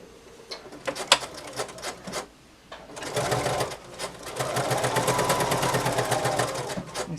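A sewing machine stitches a fabric face mask in close, rapid mechanical bursts. A short pause is followed by a longer, steady run of stitching.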